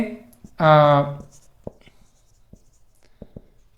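Chalk writing on a classroom board produces a few sparse, soft taps and ticks, following a brief spoken voice near the start.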